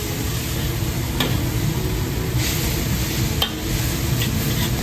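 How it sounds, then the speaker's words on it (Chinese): Shredded jicama being stir-fried as spring roll filling, a steady close sizzle with a few light scrapes of the spatula running through, no talking. "再把沙葛丝也加进去，一起翻炒均匀。"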